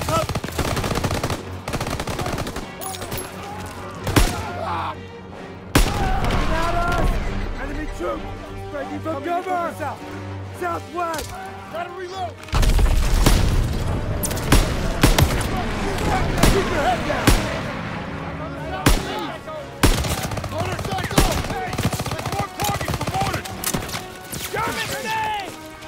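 Dense gunfire from the World War II shooter Call of Duty: WWII, with rapid machine-gun bursts and single shots crackling over music and shouted voices, loud and nearly continuous.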